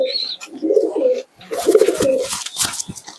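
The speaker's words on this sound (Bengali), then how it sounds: "এই একশোটা কবুতর আছে স্যারের বাড়িতে" Pigeons of golden and double breeds cooing in a home flock of about a hundred birds, rolling coos repeating in close bursts with a brief pause midway, plus faint rustling and a higher chirp early on.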